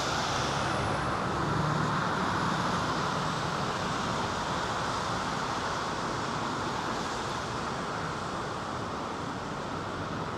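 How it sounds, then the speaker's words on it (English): A Singapore Airlines Boeing 747 comes in to land at London Heathrow, a steady broad engine roar with wind noise that holds loud and constant throughout, without voices. "it's coming in on this runway. Singapore Airlines 747."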